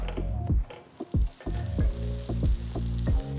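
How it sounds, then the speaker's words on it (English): A sandwich toasting in butter in a pan sizzles and crackles steadily, with a few louder bursts and scraping touches as it is moved, close and loud with no talking. "Just going to toast it on both sides."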